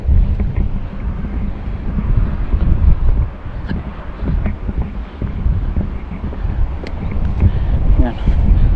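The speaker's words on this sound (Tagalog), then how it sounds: "Harangan na lang natin yung hangin." Wind buffets a microphone outdoors near the water while fishing, a loud, uneven low rumble that gusts and eases, with voices speaking under the blustering noise.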